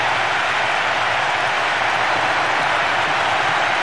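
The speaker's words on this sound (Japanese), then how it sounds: "場内が大歓声に包まれます。" A stadium crowd in a PS2 soccer video game, World Soccer Winning Eleven 10, roars in a loud, dense, continuous cheer after Brazil's opening goal, a left-footed shot.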